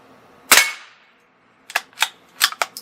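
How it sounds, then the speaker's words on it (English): A CZ 457 .22LR rifle fires one sharp crack with a ringing tail, then several quick metallic pings from bullets striking a steel target outdoors. "There's something just awesome about hearing the 22 ding on some steel."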